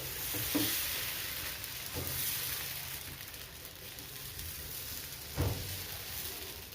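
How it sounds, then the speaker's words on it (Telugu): Barley and black gram dosa batter sizzles softly on a hot pan, a steady crackling hiss with a few brief scraping knocks. "ఇప్పుడు దోశ పోసుకుంటామండి"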